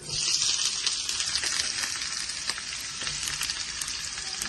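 Onions hit hot oil in a pan for a bitter gourd (karela) fry, giving a loud, continuous hiss and crackle of frying heard up close with no voices.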